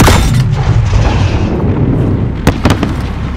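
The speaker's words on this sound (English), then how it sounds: "Fire in the hole!" A heavy grenade explosion booms in the Call of Duty: Modern Warfare campaign at an embassy, a loud close blast with a rumbling decay followed by a few sharp gunfire cracks.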